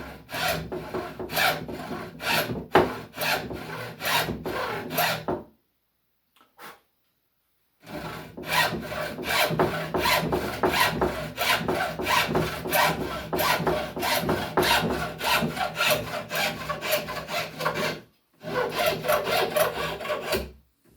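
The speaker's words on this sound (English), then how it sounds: "now I'm going to just saw this off" A hand saw cuts through wood while a chair is being built, giving steady rhythmic rasping strokes up close, paused by a short gap of near silence before sawing resumes and ends with a few final strokes.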